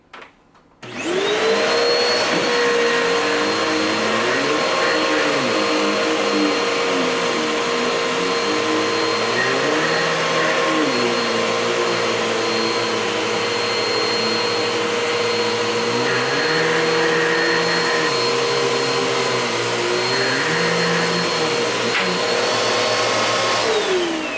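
A vacuum cleaner runs steadily over a floor during an air purifier test, a loud continuous motor whine with shifting pitch as the head moves, starting abruptly and holding nearly unchanged to the end.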